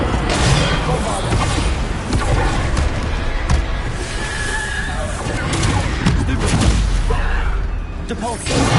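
Explosive spell blasts in the video game Hogwarts Legacy, with booming thuds and whooshes piling up constantly amid loud combat noise under a voice repeatedly shouting spell names.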